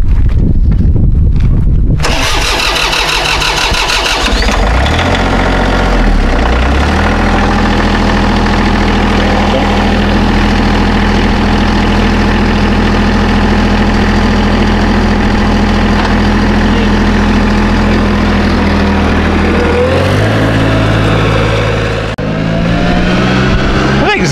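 A Challenger compact tractor engine starts and settles into a loud, close, steady idle with a deep rumble that runs unbroken for over twenty seconds, shifting slightly near the end.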